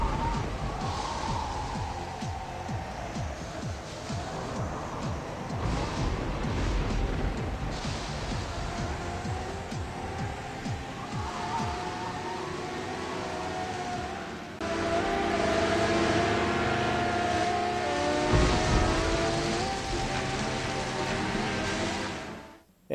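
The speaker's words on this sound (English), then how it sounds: "Riptide GP Renegade will be the first, and it's a fun jet ski game with great graphics" Jet skis race across water in the video game Riptide GP Renegade, played on a home arcade cabinet. A steady, loud roar of engine and spray runs the whole time and grows harsher and louder near the end, with no talking.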